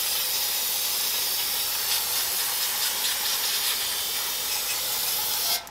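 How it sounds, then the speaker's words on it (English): Brake cleaner sprays from an aerosol can in one long, loud, continuous hiss during a rear brake job on a 2015 Jeep Grand Cherokee, cutting off abruptly at the end. "Don't be afraid to use a whole can of brake cleaner on this job."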